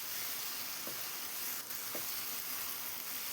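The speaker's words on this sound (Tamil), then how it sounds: "கீரையை வதக்கலாம் ஃப்ரெண்ட்ஸ். இந்த மாதிரி நல்லா கிளறி விட்டுக்குங்க." Keerai greens with tomato and onion sizzle steadily in a hot pan, a continuous close frying hiss with a couple of soft stirring knocks.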